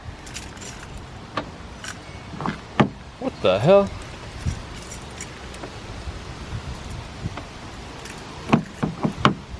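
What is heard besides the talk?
car keys jangling while trying to unlock a Golf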